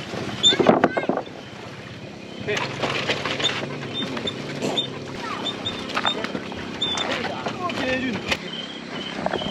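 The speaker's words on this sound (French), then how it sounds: "On va prendre le ferry avec les bécanes pour aller sur l'île là-bas" A small local ferry boat carries motorbikes across the water to an island in Laos, its engine a low steady hum under wind buffeting and people talking nearby.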